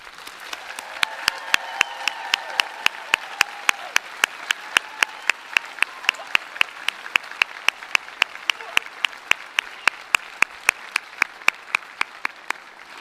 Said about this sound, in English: join me in a thunderous round of applause to celebrate the class of 2024